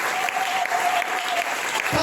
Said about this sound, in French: Est-ce que nous pouvons accueillir cette parole par des acclamations?